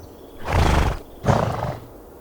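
A stubborn cartoon donkey carrying sacks brays in two loud, rough bursts with a short gap between, close and with no talk.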